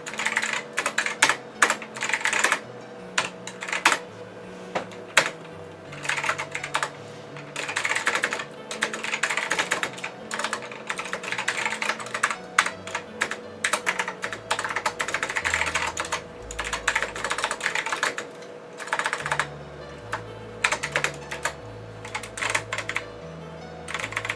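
Rapid, uneven keystrokes of C code being typed on a computer keyboard attached to an OS/2 Warp 3 PC, close and crisp, continuing in bursts with brief pauses over a steady background of soft music.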